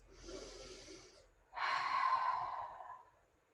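Forceful yoga breathing during a winter solstice session: a strong nasal inhale followed by a longer, louder rushing exhale, both close and breathy, with no talk.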